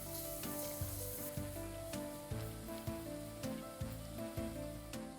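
Kashmiri red chilli powder, garam masala and salt sizzle in a pan for dhaba-style Nagori dal tadka, mixed with rhythmic stirring strokes under a steady backdrop of tonal music.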